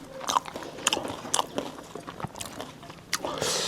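Crisp bites into crunchy battered, deep-fried vegetables, several sharp crunches in an irregular rhythm up close, with a quiet voice murmuring between bites.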